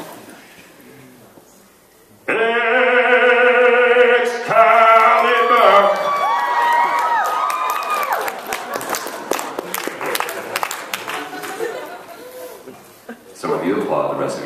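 Audience members at a 2012 SacAnime convention Q&A burst into loud applause and cheering after a voice briefly sustains a tone, then the clapping thins out with voices talking over it.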